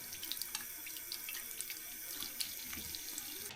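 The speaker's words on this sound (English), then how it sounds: "You can run some water down the drain to help clean it out" Tap water runs into a bathroom sink and down the drain in a steady close splash, with small spattering drips and gurgles scattered through it, with no voices.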